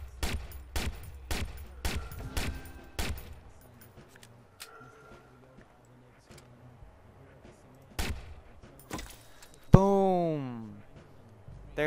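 Sniper rifle shots from Watch Dogs crack out as sharp, loud single reports, several in quick succession and then more spaced out. Game effects and a rising tonal sweep follow near the end.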